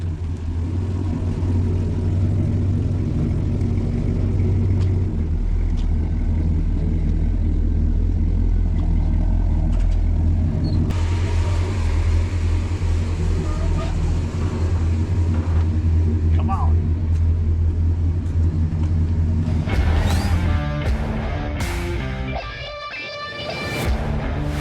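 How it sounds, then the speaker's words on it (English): A candy apple red 1973 Chevrolet Camaro street machine in a shop in Lake Havasu City, Arizona, its engine rumbling low and steady up close while a person talks over it, ending in a brief rev. "candy apple red 73 Camaro in the shop."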